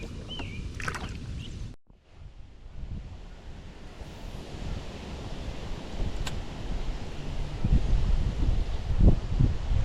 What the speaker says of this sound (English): Wind is blowing me middle lake.